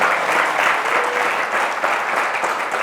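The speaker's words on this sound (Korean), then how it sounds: "하나님께 영광의 박수 한번 드립니다" A church congregation at a young adults' winter retreat service applauds, a sustained, even wash of many hands clapping at once, moderately loud and without speech throughout.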